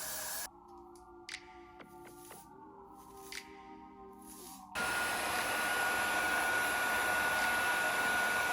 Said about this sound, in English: then blow dry it down.